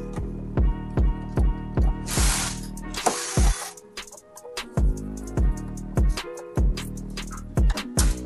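A top screw inside a printer's developer tank is being unscrewed. Close, evenly spaced ratcheting clicks repeat steadily, broken briefly by a soft hiss partway through, with no voices.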